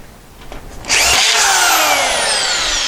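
A power drill drives a 1-inch drywall screw into blocking in a laundry room: a faint click, then a loud close whine that slowly drops in pitch as the screw bites in, with no talk.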